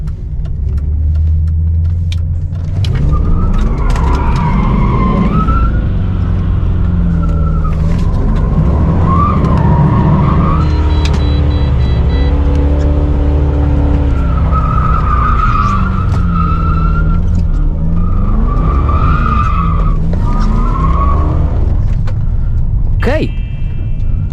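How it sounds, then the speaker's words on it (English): Chevrolet Lumina SS doing donuts on a South African farm road, a loud engine revving in long rising and falling sweeps with tires squealing and skidding, and a voice talking over it. "So let's see if it can do donuts."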